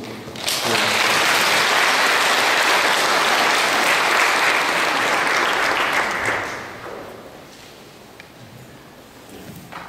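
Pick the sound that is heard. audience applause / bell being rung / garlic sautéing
audience applause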